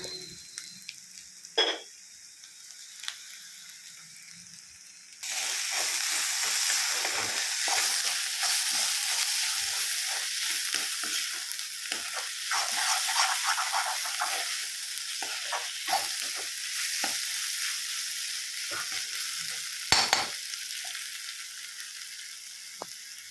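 Onions sauté with salt in a pan for home-style Chindamani chicken fry: after a few quiet stirring clicks, a loud continuous sizzle takes over, punctuated by scraping and stirring sounds.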